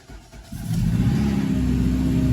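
A Honda Civic Si with a swapped K20Z1 engine and J-Cab exhaust idles, then its engine climbs into a loud, sustained rev, close and droning, with no talk.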